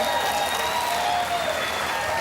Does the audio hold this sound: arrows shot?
no